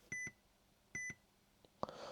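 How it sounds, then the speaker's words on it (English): Two electronic beeps, each a quick double chime, sound from a car's aftermarket CarPlay dashboard system, followed by a faint click and soft rustling. "I've got to turn that beep off, though."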